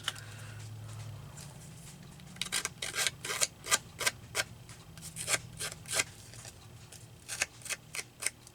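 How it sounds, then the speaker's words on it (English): Scissors snipping through paper for a collage craft piece, a quick series of crisp cuts in bursts after a short pause, close and fairly quiet with no talking. "And I'm going to take my scissors."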